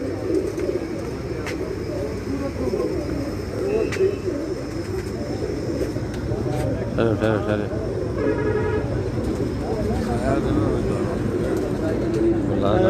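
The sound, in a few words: pigeons cooing on a rooftop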